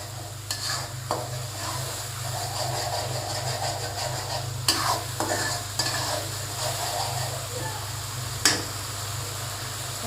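Spice paste with cinnamon and cloves sizzles and fries in oil in a pan over raised heat, a constant crackling hiss with a steady low hum underneath and a few sharp scrapes of stirring.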